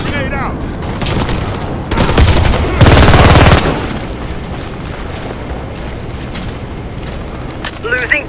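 Heavy gunfire and a grenade blast in the online shooter Warface during a domination match: sustained rapid bursts of automatic fire building to a loud, dense explosion-like roar in the middle, then fading back to scattered shots.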